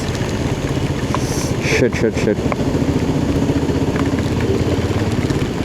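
Motorcycle engine running steadily on a ride through heavy rain, with a continuous broadband wash of rain and wind over the engine drone and a brief spoken exclamation partway through.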